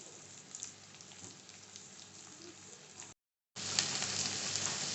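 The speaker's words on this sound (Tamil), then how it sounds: "இப்போது நம்ம நறுக்கி வச்சுருந்த வெங்காயத்தை சேர்த்துக்கலாம்" Chopped onions hit hot oil in a pan for Adai Dosai, giving a steady hiss and sizzle with scattered pops, close and soft, a brief gap, then a louder sizzle resumes.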